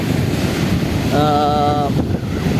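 Rough sea surf surging and crashing against the shore in stormy weather, a continuous loud broadband roar with strong wind buffeting the microphone and a brief tonal whine partway through.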